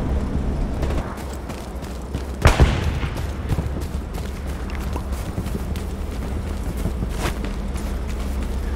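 Gunfire in the Hell Let Loose war game: one loud, sharp shot lands close by, with fainter scattered reports and steady background rumble before and after it.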